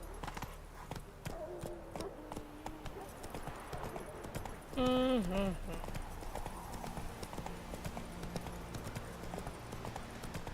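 Roach, Geralt's horse in The Witcher 3: Wild Hunt, gallops with brisk, even hoofbeats throughout while someone talks over it; a short, louder tonal cry rises and falls briefly midway.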